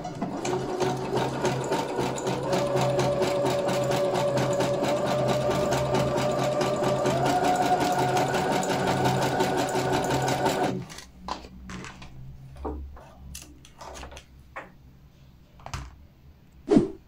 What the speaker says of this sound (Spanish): su máquina de coser en una puntada de zigzag 3 tiempos